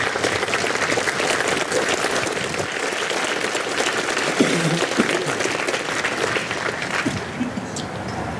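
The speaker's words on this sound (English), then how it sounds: "join me in a round of applause for these awesome individuals" An outdoor audience at a Veterans Day paver dedication ceremony breaks into a sustained round of applause, dense and steady clapping throughout, with a few faint voices underneath and wind in the background.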